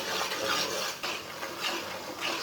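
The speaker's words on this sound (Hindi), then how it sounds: "सूजी को चम्मच चलाते हुए भूनना, इसे बिल्कुल भी जलने नहीं देना।" A spoon scrapes and stirs semolina as it roasts in oil in a pan, giving a close, continuous gritty rasp with a soft sizzle underneath and no voices.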